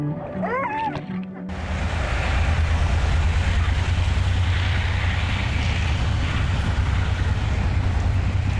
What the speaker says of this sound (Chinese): 现在火车比较少看到这种货车了，因为它这类货车一看就知道它在军用品